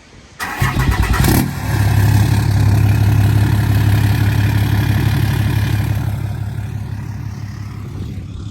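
A Cummins diesel engine in a Dodge Mega Cab pickup cranks briefly, catches and settles into a steady, loud, rumbling idle with a low throb that eases slightly toward the end.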